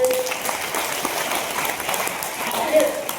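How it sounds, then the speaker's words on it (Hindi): An audience claps at a talk after being asked to applaud. Moderate, even clapping runs for about three seconds with voices mixed in. "ताली बजा दीजिए"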